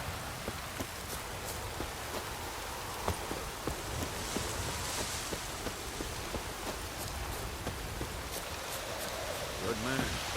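Rain falls steadily in The Witcher 3, a dense, even hiss of drops spread across the whole stretch with faint scattered ticks, close and continuous.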